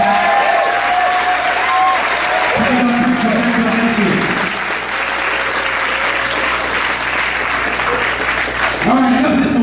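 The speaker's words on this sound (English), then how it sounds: "Let's give Mr. Frick a round of applause." Sustained loud applause from an audience at a black belt martial arts demonstration honoring an award nominee, steady dense clapping throughout with a few voices and cheers mixed in.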